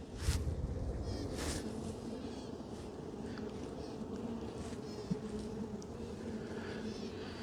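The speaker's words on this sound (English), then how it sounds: "Piping is a bee or a honey, queen bee calling." Queen bee piping inside a honey bee hive during a summer inspection, a faint tonal call riding over the steady dense buzz of the colony, with brief brighter bursts standing out now and then; no talking.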